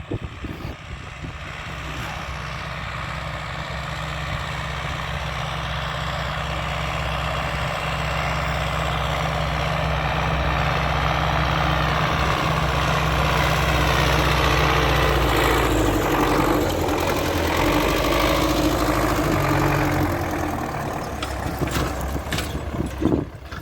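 An MTZ-80 tractor engine runs steadily close by in a farm field, a continuous low diesel drone with a faint rumble that swells slightly midway and stays constant throughout, with no talk over it.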